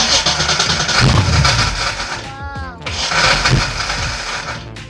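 A 1989 Mustang GT with a failing ignition key switch cranks and fires, its engine running loud and rough, dropping briefly and catching again as the key is worked, while a voice speaks over it.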